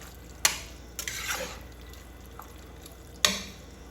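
A protein-rich dinner mixture is stirred in a pot, with a few sharp scraping clacks of the spoon against the pot and soft wet churning in between, close and fairly quiet.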